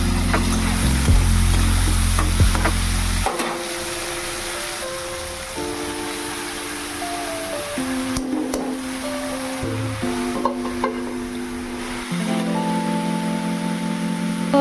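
Potatoes and peas fry in oil with turmeric, dried chili and bay leaf in a wok, a steady hiss of sizzling running beneath background music throughout.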